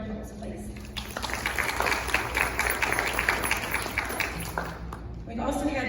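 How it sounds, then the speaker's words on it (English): Applause from an audience at a high school Future Educators signing day event, a sustained burst of clapping lasting about four seconds, fairly loud and dense, with voices before and after. "if we can give them a round of applause"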